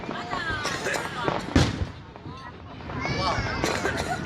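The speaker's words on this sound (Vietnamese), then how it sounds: "Pháo bên Thủ Thiêm nó tỏa nhiều hơn, Pháo bên Lan Bác Pháo này nó bự hơn." Fireworks bursting over Saigon, a continuous run of crackling pops and booms with one sharp louder blast, heard amid a chattering crowd with people talking nearby.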